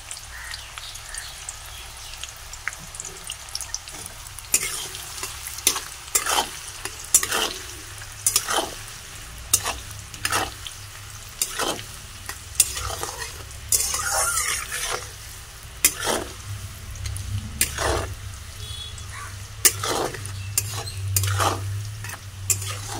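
Fried rice is stir-fried in a pan, a continuous crackling sizzle broken by repeated scraping and clattering strokes of the spatula against the pan, close and steady throughout.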